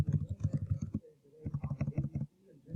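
Fingers type on a computer keyboard in quick, close bursts of soft key clicks, with a brief pause between two runs of typing.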